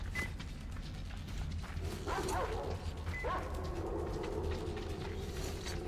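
A dog caged in the video game Metro Exodus barks and whimpers, giving a few short, fairly faint yelps and whines over a steady low background hum.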